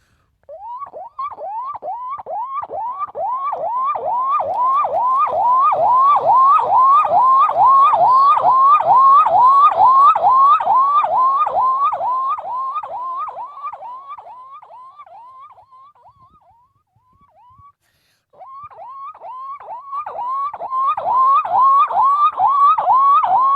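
A mimicry artist imitates a 108 ambulance siren with his voice, producing a loud, continuous rising-and-falling wail of rapid repeated cycles that fades briefly and then starts again.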